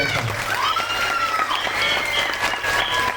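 Audience applause at an anniversary event with a dance performance, a steady, dense wash of clapping throughout, with a few voices and tonal sounds faintly mixed in.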